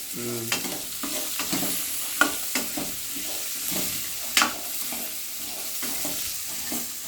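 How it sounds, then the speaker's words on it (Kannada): Turmeric powder and lentils frying in a pan, with a soft continuous sizzle broken by scattered scraping and tapping stir strokes, fairly close, no voices. "ಪಿರೆ ಹಾಕ್ಬಿಟ್ಟು ಹಿಂಗೆ ಅರಿಶಿನ ಪುಡಿ ಹಾಕಿ ಕಾಳು ಹಾಕಿ ಚೆನ್ನಾಗಿ ಉರಿಬೇಕು"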